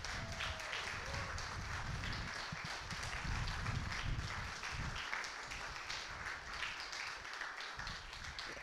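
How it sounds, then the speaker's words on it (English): An outdoor crowd at a park ribbon cutting claps for the Parks crew, a steady, fairly faint patter of applause with low rumbling underneath that continues throughout. "I'd like everybody to give a big round of applause to our Parks crew"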